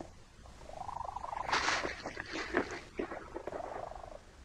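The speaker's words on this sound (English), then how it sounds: "Cats have perfected a purr that we find impossible to ignore." Cat purring close up, a soft rhythmic rumbling with a steady cycle of breaths, fairly quiet and alone.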